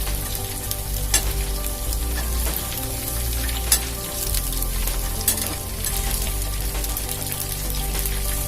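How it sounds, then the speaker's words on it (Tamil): Prawns for a prawn 65 fry crackle in hot oil, a dense continuous sizzle with a steady low rumble and occasional sharper pops, loud and close throughout. "நம்ம இறாவை எண்ணெயில போட்டோம்."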